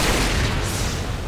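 An explosion in the video game Resident Evil 6 produces a dense, loud, boomy burst of noise that fills the whole short moment.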